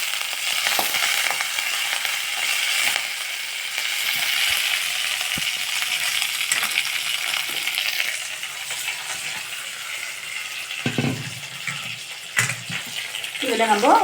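Curry leaves hit hot coconut oil in a tempering for a vegetable stir-fry, giving a bright, continuous crackling sizzle with scattered pops, easing slightly before a few thuds and a brief voice near the end.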